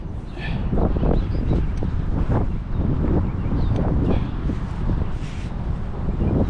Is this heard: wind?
yes